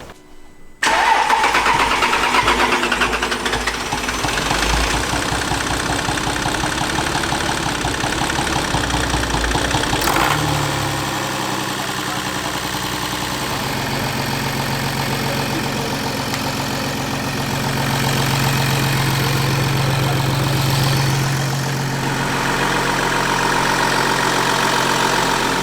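A Volkswagen Golf Plus engine cranks and catches right away. It settles into a loud, steady idle that shifts slightly around the ten-second mark and keeps running to the end, with no talking.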